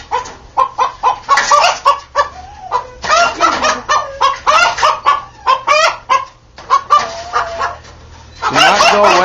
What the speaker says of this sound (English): I think, yeah, we got a rooster in here.